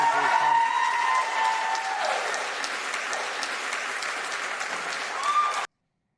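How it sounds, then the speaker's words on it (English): Crowd cheering and applause erupt at a board of education meeting, loud and sustained with whoops rising over steady clapping for several seconds before cutting off abruptly. "I was happy to see that there was cheering"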